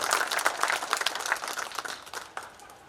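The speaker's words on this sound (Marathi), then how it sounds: "त्यासाठी या सर्व जयंती कमिटीचं एकदा जोरदार टाळ्या वाजवून आपण स्वागत करूया" Loud applause from an audience at a Shivjayanti celebration, welcoming the Jayanti committee: dense, rapid clapping that swells and then thins out toward the end.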